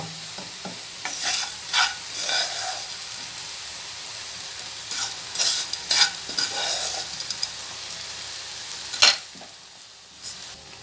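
Previously fried coconut is tipped into a Palakkad-style kootu curry and stirred. A spoon scrapes and clatters against the pan in short bursts over a soft sizzle, with one sharp knock near the end. It is close by and no one speaks.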